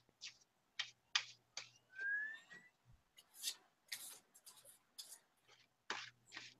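A tarot deck is shuffled by hand in a quiet room: soft, scattered bursts of card riffling and sliding, faint and close, with brief pauses between passes.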